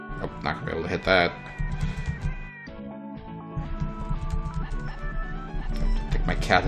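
A house cat meows several times in sharp, close calls, one drawn out into a strained caterwaul, over game music and background sound.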